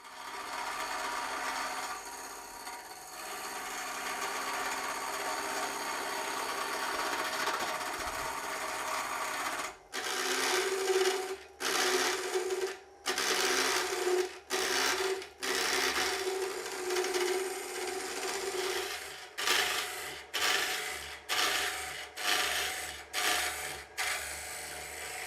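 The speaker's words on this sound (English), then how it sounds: "we will turn down to the round using the tungsten carbide square cutter." A wood blank held between centres on a lathe is turned round with a tungsten carbide square cutter: a steady machine hum gives way to loud, choppy cutting bursts that repeat in a quick rhythm, with no talk.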